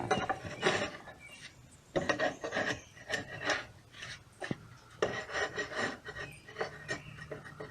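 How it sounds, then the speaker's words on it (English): Steady back-and-forth rasping of sandpaper rubbing over wood to round the edges of a cooper's piece, close and continuous with uneven strokes and small knocks, no talking. "So you can go over it with a sandpaper."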